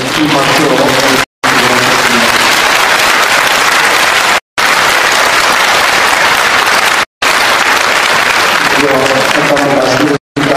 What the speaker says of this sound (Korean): 이 박수로 부탁드리겠습니다.